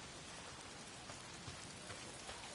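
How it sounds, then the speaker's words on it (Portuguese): Steady rain falls in the PS5 game Days Gone in a dense, even hiss, with a few heavier drops patting through. "Tá sempre chovendo."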